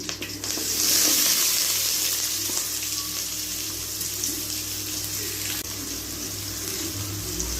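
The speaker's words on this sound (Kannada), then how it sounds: "ಎಣ್ಣೆ ಕಾದ್ಮೇಲೆ ಕರಿಬೇವಿನ ಸೊಪ್ಪು, ಮತ್ತು ನಾನು ಸಣ್ಣಗೆ ಹಚ್ಚಿಟ್ಕೊಂಡಿರೋ ಈರುಳ್ಳಿ 2 ತೊಗೊಂಡಿದ್ದೀನಿ." Curry leaves and finely chopped onions hitting hot oil, a loud crackling sizzle that flares up at first and then settles into a steady, even frying hiss with faint stirring.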